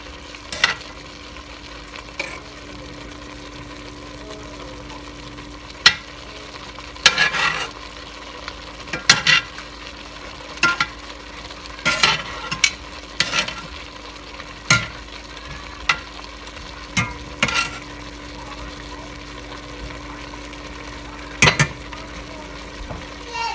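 Meatballs go into a pot of Irish stew already cooking, a soft steady sizzle broken by a series of sharp scrapes and clacks of stirring and handling at irregular intervals.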